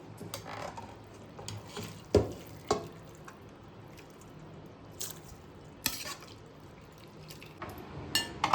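Boiled noodles being strained: sparse water drips and small splashy clicks with a few louder knocks against a strainer or vessel, quiet and close, with pauses between them.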